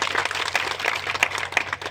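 A crowd applauds a team at a gathering, with many hands clapping densely and unevenly at a moderate level, a few louder claps standing out.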